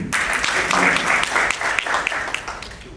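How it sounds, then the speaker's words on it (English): Audience clapping at an anniversary event, a moderate burst of many hands with sharp individual claps standing out, sustained for a few seconds and tapering slightly toward the end. "Please clap hands to him."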